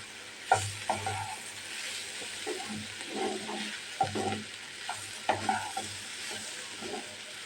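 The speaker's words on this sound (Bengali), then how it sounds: "এখন ভাজিটা দিয়ে মিলিয়ে নিচ্ছি।" Flat beans and egg stirred together in a frying pan, with a steady sizzle beneath repeated scraping strokes of a spatula, close and fairly loud, no voices.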